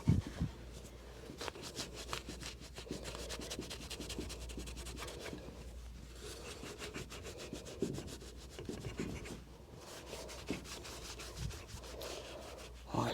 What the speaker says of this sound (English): It's buffing out really easy.